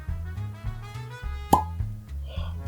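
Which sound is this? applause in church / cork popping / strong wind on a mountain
cork popping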